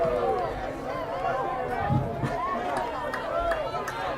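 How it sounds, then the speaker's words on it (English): Dense crowd noise from a college football game between McMurray and OPSU, booing and grumbling over a penalty flag, sustained and fairly loud throughout with overlapping voices. "Crowd not happy with that one"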